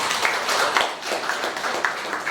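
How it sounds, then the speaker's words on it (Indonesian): Applause from guests at a wedding ceremony, right after a couple is declared husband and wife. A steady, moderately loud wash of many hands clapping fills the short stretch without a break. "Tepuk tangan."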